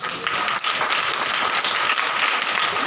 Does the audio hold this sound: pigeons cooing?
no